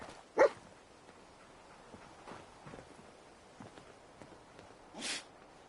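The dog companion in the Fallout 4 video game lets out two brief, moderately quiet barks, one near the start and one near the end, over a low ambient game background.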